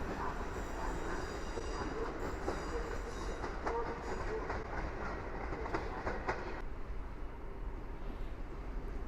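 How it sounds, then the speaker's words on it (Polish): Intercity Warta passenger train with an EU160 electric locomotive pulling into a Warsaw station, a loud, steady rumble of wheels on rails with faint squeals and clicks, close by and continuous. "A teraz podstawia się Intercity Warta do Poznania Głównego."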